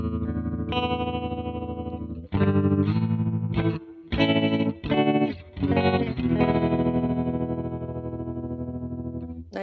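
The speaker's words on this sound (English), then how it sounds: "one of my favorite ways to use a ring mod is like a tremolo that kind of changes" A sustained synth tone pulses with a rapid, fluttering tremolo from a MoogerFooger ring modulator plugin in Studio One, choppy bursts swelling and dropping in a steady, wobbling rhythm.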